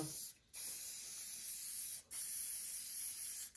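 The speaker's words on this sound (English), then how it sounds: "last little bit for tonight, more hairspray" Hairspray hisses steadily from an aerosol can onto weed scenery on an OO gauge model railway layout, two long close bursts separated by brief pauses.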